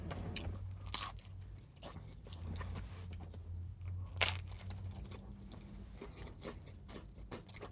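Someone bites and chews a mouthful of oxtail pizza from a Queens shop, a close run of crisp, uneven crunches and wet chewing with one sharper crunch midway, over a low steady hum.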